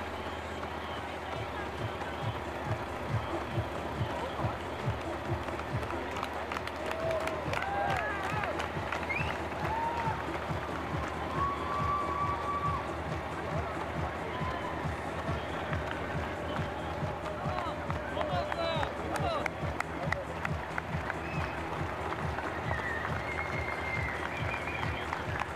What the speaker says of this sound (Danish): Klap i takt!